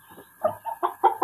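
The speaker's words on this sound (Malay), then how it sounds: "Malam tadi sampai ayam ni Pak Long bawa dari rumah abang Pak Long balik ke sini" A chicken clucks nearby in a run of four or five short, throaty bursts that grow louder toward the end, with no other sound around them.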